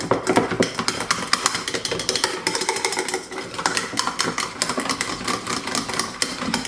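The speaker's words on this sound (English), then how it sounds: "we're going to stir that up a little bit in here" A spoon stirs chicken wrap ingredients in a bowl at an outdoor grill, making quick, dense scraping and clicking taps that run on steadily at close range.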